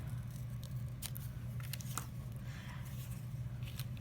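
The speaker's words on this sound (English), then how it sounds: "I think I'm going to snip this little one off." Scissors snip a small paper flower off a handmade scrap card, giving a few faint, quick cuts over a low steady background hum, with no voices.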